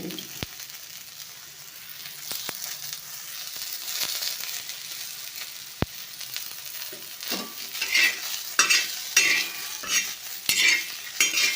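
Karjikai sweet dumplings fry in oil with a soft continuous sizzle, joined by occasional sharp clinks of a utensil, then rising bursts of crackling bubbling and stirring toward the end, close and without speech.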